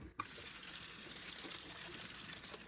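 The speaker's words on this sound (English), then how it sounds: "we're just going to rinse off all those apples" Tap water runs steadily into a sink while Cortland apples are rinsed, a continuous close gush and splash lasting the whole stretch with no talking.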